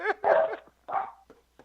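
A dog lets out three short, sharp barks or yelps close by in quick succession, with brief quiet gaps between them and no talk.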